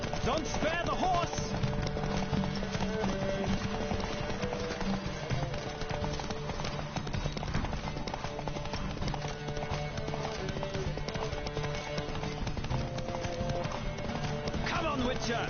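Horse galloping during a race in The Witcher video game, fast rhythmic hoofbeats pounding steadily for the whole stretch, loud and close, mixed with game sounds and shouted voices.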